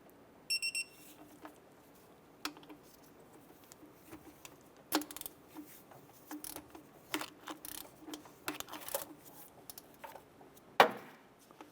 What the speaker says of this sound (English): Go ahead and torque these bolts down to 16 foot-pounds.